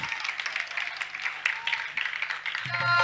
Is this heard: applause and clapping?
yes